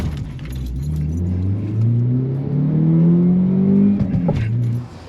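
A BTCC Peugeot 406 race car accelerates hard down a drag strip, its engine note climbing steadily through the gears for several seconds, loud and close before cutting off at the end.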